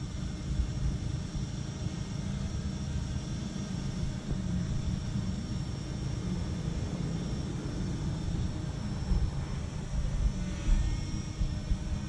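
A Parrot Anafi drone flies in follow-me mode over a rider on a Boosted Board, producing a steady, even whirring drone that holds at moderate volume for about twelve seconds without voices.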